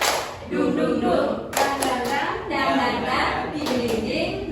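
A group claps in rhythmic bursts along with a chant, the voices and hand claps mixed close together in short repeated phrases.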